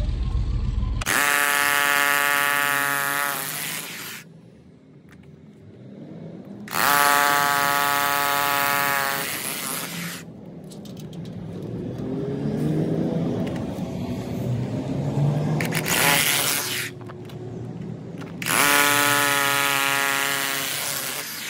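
A power drill bores through concrete, whining loudly in three bursts of several seconds each, separated by quieter stretches of scraping and rumbling between runs.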